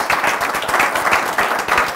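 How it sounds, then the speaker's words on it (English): An audience gives a round of applause at an entrepreneur speaker series, dense hand clapping filling the room steadily throughout with no speech. "let's give Luke a round of applause for coming in."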